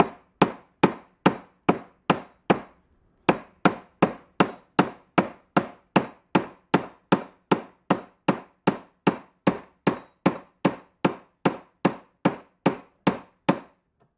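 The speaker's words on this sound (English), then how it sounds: "you're going to get yourself some type of hammer that has a flat bottom" A flat-bottomed hammer strikes metal over and over while a transfer magnet is being made. The blows are sharp and close, about two per second in a steady rhythm, with one short pause near the start and no talking.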